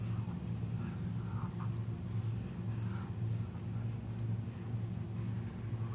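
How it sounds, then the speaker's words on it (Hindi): A marker scratches and squeaks across a classroom board in a steady stream of short strokes, close and clear, with faint background hum. "अब मैं इसको इरेज कर देती हूँ यहाँ पे और इसकी एडिशन स्टेटमेंट लिख देती हूँ"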